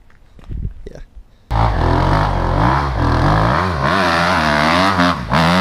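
A Kawasaki KX250 dirt bike engine, heard in a snowy hillclimbing setting, bursts into loud revving after a second of quieter handling noise, rising and falling repeatedly close by with no voices over it.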